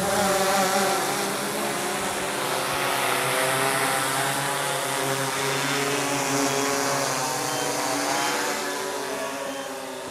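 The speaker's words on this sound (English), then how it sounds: "That's a pretty copter." A DJI Phantom or Q500 4K quadcopter drone hovers and flies outdoors at Calico Basin, Nevada, its rotors giving a steady buzzing whine that holds at fairly close range for about ten seconds with no talk.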